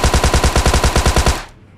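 Tommy gun from PUBG Mobile firing one fast, even burst of about fifteen loud, close shots that stops sharply, leaving a short fading tail.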